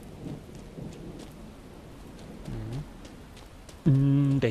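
Thunder rolls in from a lightning strike during a rainstorm in the survival game Miscreated, a low rumble beneath steady rain with a louder crack near the end; faint voices are present.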